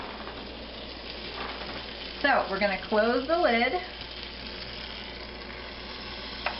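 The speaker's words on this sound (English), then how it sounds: "you can probably hear it sizzle" CiniWaffleCakes dough sizzling in a hot waffle maker, a steady low frying hiss running throughout, close and fairly quiet, with a person talking briefly over it in the middle.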